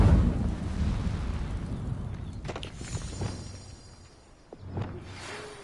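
An Incendio fire spell cast in the Hogwarts Legacy video game, a loud roaring burst of flame that fades into low rumbling, with a few sharp crackles and a later flare near the end, and no voices.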